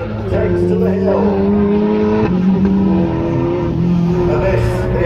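Ariel Atom sports car climbing Kop Hill at a hill climb event, engine note rising and shifting through gears, loud and close, with people talking over it.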